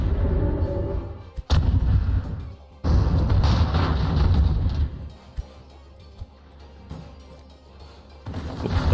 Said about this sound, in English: I actually want to see the Gustav fire.